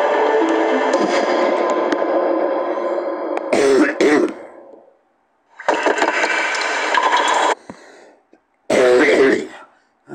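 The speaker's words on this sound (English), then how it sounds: "Sorry guys, I still have this cough." A person coughs and clears their throat in harsh, loud bursts, about three separate fits with quiet gaps between them, over a sustained background sound.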